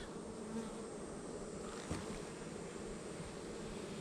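Honey bees buzz steadily around hive frames they are cleaning after a honey super is added, a continuous droning hum of many insects up close with no talking.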